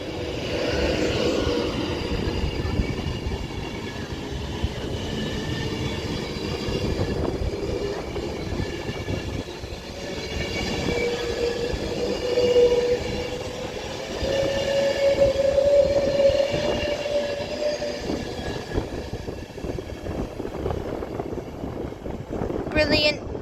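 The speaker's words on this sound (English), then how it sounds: "Brilliant from the get-go there from that 390 Pendolino, heading to London Euston." A Class 390 Pendolino on the West Coast Main Line pulls out of Wigan North Western toward London Euston, a loud rising electric whine and rumbling wheels building steadily as it departs, with no one speaking.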